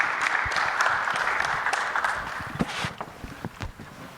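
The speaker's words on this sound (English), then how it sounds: "please join me for a round of applause for our panelists" Applause from a conference audience for a panel at a political convention, a dense steady clatter of many hands that thins and turns patchy toward the end, with a few louder individual claps.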